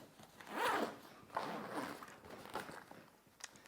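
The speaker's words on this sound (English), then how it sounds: "So you zip down the bag." Main zips of a Pacsafe Duffelsafe 100 travel bag pulled closed, a long rasping zip followed by a couple of shorter zipping strokes and small fabric rustles, close and fairly quiet.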